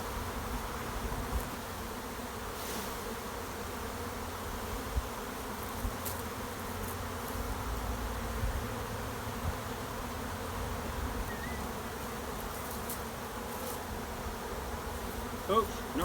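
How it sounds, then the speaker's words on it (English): A steady, dense buzz of many honeybees hums continuously around a hive, close and even, with no voices. "all the bees want to be on where the brood is"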